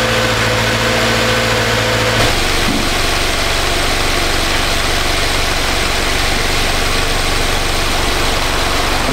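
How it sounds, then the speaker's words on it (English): A cold Subaru engine runs at a high idle, a steady loud mechanical drone that holds evenly throughout, with a brief shift in tone early on and no voices. "Subarus, when they're cold, do have a high idle."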